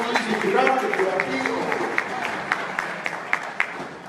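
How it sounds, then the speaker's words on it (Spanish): Audience applause greeting Peruvian trumpeter Elmer Churampi as he joins a bandleader on stage, a steady wash of clapping with a few sharper claps near the end, under speech. "Un aplauso fuerte ahí, caballero"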